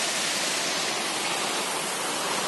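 Creek water rushing steadily on the West Coast Trail on Vancouver Island, a dense, even broadband wash with no breaks, close and fairly loud, with no voices over it.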